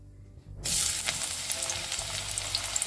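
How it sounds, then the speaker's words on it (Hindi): Onions hit hot oil on a high flame for spinach bhuna palak: after a brief near-silent moment, a sudden loud sizzle erupts and carries on as a steady, close crackling fry, with no one talking. "और मैं सारे इसमें प्याज ऐड कर देती हूँ और अभी हम इसे हाई फ्लेम पे ही भूनेंगे।"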